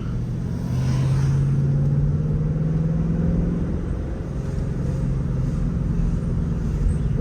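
A Ford Mustang GT 5.0 V8 engine idles with a low, steady exhaust rumble, rising briefly in pitch before settling back to a deep burble.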